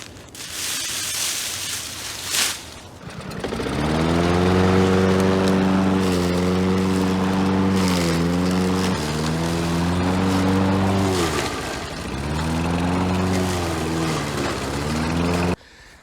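A lawn mower chopping up garden debris starts up, then runs loud and steady nearby with a strong engine drone and slight dips in pitch as it bites into the material.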